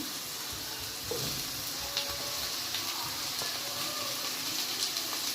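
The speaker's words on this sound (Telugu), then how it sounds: "చూడండి బీరకాయ ముక్కలు కొంచెం వేగాయి మనం ఇప్పుడు ఇందులోనే టమాటా ముక్కలు వేసుకొని ఫ్రై చేసుకున్నాము" Ridge gourd and tomato pieces frying in a pan, giving a steady soft sizzle throughout with a few faint clinks and stirring scrapes, fairly close and without any talk.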